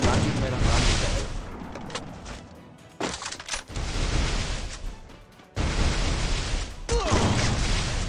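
Gunfire in the Free Fire mobile battle game, with dense bursts of loud, noisy shots filling most of the stretch, broken by two short gaps, while someone talks over the action.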